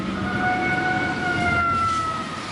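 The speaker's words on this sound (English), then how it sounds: "You hear the sirens?" Tsunami warning sirens sound across a Japanese coastal town, a steady sustained wail heard from a distance over low ambient rumble.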